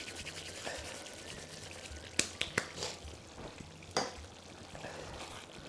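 Curry stirred through in a pan, with a soft continuous sizzle under a few sharp scrapes and taps of the spoon, close and moderately quiet, no talking.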